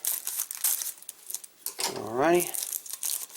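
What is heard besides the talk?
cutting tough plastic packaging with scissors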